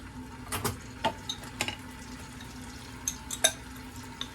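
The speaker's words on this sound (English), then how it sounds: "Start with the garlic getting hot in there" Garlic heats in a pan for a coconut green curry, giving a faint steady sizzle broken by scattered clicks and taps from a utensil, with no voices.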